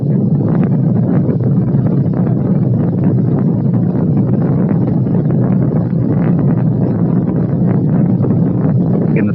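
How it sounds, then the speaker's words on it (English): Rocket main engines starting at launch: a loud, unbroken roaring rumble that holds steady throughout, heavy in the low end and crackling on top. "We've gone for main engine start."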